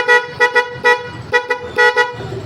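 Freshly fitted Mac horn on a motorcycle blares in a series of short, loud, bright honks, roughly seven blasts in a choppy stop-start rhythm, close up with no talking.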